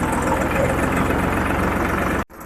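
A vehicle engine idles close by at a gate with a loud, steady low rumble and rhythmic chugging, then cuts off abruptly near the end.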